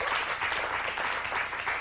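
A studio audience at a late-night comedy show claps steadily and densely, a full even wash of applause held close throughout with no break.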